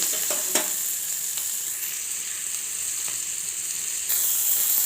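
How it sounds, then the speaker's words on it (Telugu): Green chillies frying with salt in a pan, a bright, continuous hiss with a few soft stirring scrapes near the start, holding steady and getting slightly louder toward the end, with no voices. "అటు ఇటు కలుపుకుంటూ ఇలా మొత్తం వేపుకోవాలి"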